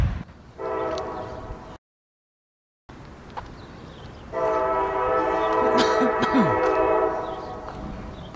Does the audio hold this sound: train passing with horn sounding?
yes